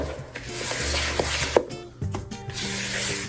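Spatula scraping and rubbing butter and sugar together in a mixing bowl for banana bread, a steady close-up creaming sound with a few soft knocks, no talking.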